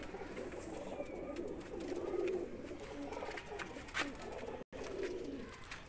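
A pet pigeon coos softly in low, rolling murmurs at close range, steady and faint, with a brief dropout near the end.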